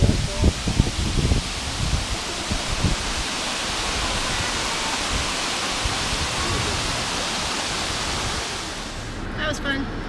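A waterfall on a creek at Amicalola Falls roars as a loud, broad, steady rush of water that fills the whole span, with some brief bumps and handling noise at the start.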